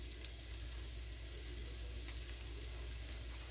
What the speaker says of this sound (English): We're just sauteing is what we're doing.